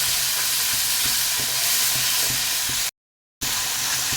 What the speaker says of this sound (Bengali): মশলাটা কিছুটা কষিয়ে নিয়ে